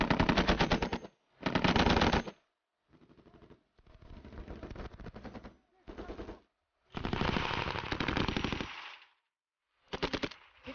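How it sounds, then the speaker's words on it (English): Machine-gun bursts ring out at a military shooting range target, several loud rapid-fire strings of varying length separated by short silences. "2 bursts at the target."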